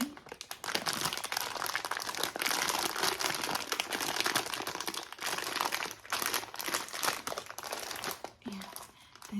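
Close, continuous crinkling and crunching of a plastic bag of pasta noodles, handled steadily in soft rustling bursts with a few brief pauses.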